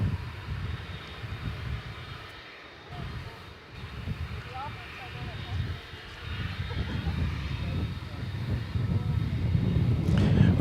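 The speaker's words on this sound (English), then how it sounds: "MD-11." MD-11 jet engines rumble at DFW Airport at night, a broad roar that rises and falls as the plane moves, mid-distance, with people talking over it.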